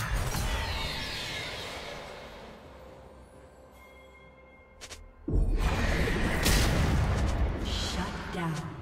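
A turret-destroyed explosion in League of Legends, with a deep rumbling boom, then a sudden loud burst of crashing debris and blasts near the end, amid game effects.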